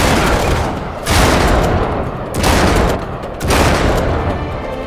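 Three heavy shotgun blasts in the Uncharted 3 video game, roughly a second apart, each a loud boom with a ringing tail over a steady din of combat.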